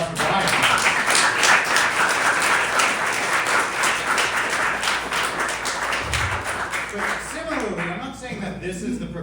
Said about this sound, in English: A little round of applause for Brian.